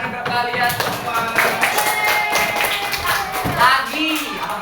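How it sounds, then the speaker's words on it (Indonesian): A fourth-grade classroom of pupils claps together, a dense close patter of small hands with children's voices and chatter over it, running steadily throughout. "Tepuk tangan untuk kalian semua."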